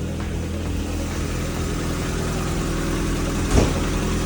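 A Mazda Miata's engine idles steadily and fairly loud just after being started, a constant low rumble with a brief blip near the end.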